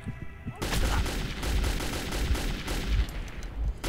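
Sustained gunfire blazes in the video game Metro 2033, a dense, loud burst of rapid shots that starts abruptly and keeps roaring without pause, with no talk over it.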